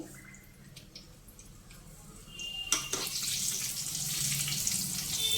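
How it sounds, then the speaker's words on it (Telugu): Mustard seeds crackle and spit in hot oil while tempering for a prawn and gongura dish; a faint background hiss swells into a loud, steady sizzle midway and stays bright to the end. "కొంచెం ఆవాలు చిటపటమన్నాయి కదా"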